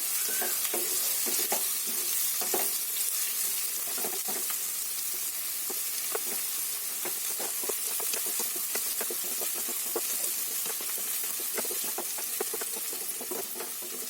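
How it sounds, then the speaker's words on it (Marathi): Onion frying in hot oil with curry leaves for a cabbage masala, a steady dense sizzle with repeated stirring scrapes throughout, close and loud with no talking. "आता कांदा चांगला फ्राय व्हायला देते."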